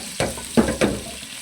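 Chicken frying in ghee over low heat in a pot that already holds lightly fried onions: three short bursts of sizzling and stirring, close and moderately loud, with no talk.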